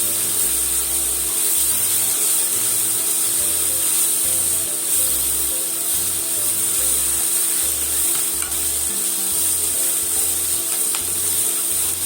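Green onions and fried tofu pan-fry over low heat with a steady, close sizzling hiss and a constant low background hum, with no one speaking.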